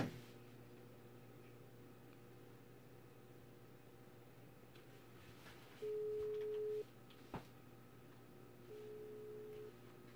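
A telephone call rings out before being answered, with two faint long ringback tones spaced a few seconds apart over quiet background noise and a brief click between them.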